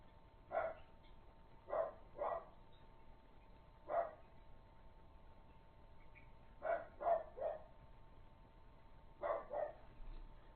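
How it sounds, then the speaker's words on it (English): A pet dog barks in several quick bursts, mostly pairs and triples of sharp barks spaced across the stretch, fairly close and loud over a quiet room hum with no talking. "Yeah, that's my dog."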